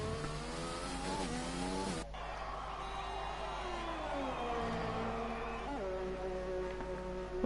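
F1 racing cars in a video game race round the Great Britain circuit. Engines whine and rev close by, gear shifts sweep the pitch up and down, and one car passes in a loud, continuous roar.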